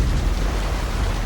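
Steady, dense rain hissing continuously at an even loudness with a low rumbling undertone, no breaks and no voices.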